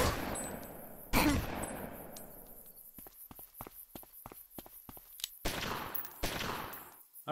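Gunfire in the Omerta: City of Gangsters video game, a series of sharp isolated shots with short gaps between them, plus a couple of louder blasts trailing off into noise.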